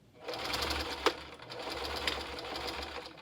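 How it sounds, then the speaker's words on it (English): A sewing machine runs a steady straight stitch on a clown-style Lolita dress, a continuous close whirring hum with one brief sharp knock partway through. "And I'm just going to not zigzag stitch it, just a straight stitch."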